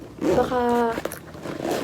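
A coin pouch zipper being pulled open in one long continuous rasp, close up, with a second shorter zip after a brief pause and a Filipino-speaking voice talking before and around it.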